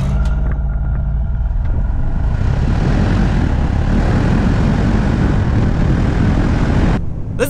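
A 2022 Mercedes-Benz S580 AMG-Line V8 accelerating hard, a loud, continuous engine roar building through the run, with brief shift breaks, then cutting off abruptly near the end.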